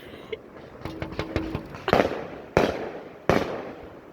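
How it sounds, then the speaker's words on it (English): Fireworks launched at night: a quick run of crackling pops, then three loud, sharp bursts spaced roughly a second apart, each ringing out briefly overhead. "Godzilla fireworks. Got more going up."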